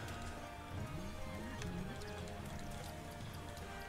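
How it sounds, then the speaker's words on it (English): Horse in a video game, with clip-clop hooves and a whinnying neigh heard over a busy game soundscape, close and moderately loud for a few seconds. "And a horse."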